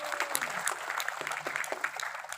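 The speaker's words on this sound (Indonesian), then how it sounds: "Tepuk tangan ini." Scattered applause from attendees at a business seminar on a health-product network marketing plan, a faint, moderate patter of clapping heard from some distance in a room with a low steady hum.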